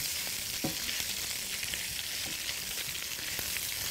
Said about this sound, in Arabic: اللحمه اهي بنشوحها كويس قوي